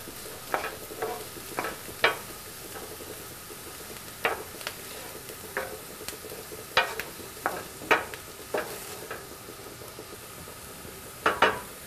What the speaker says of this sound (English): We want those onions to get nice and browned and soft, so we're gonna let them sit on the heat.